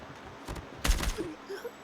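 A couple of short bursts of rapid gunfire in Call of Duty Mobile, the second louder and longer, followed by quieter game sounds.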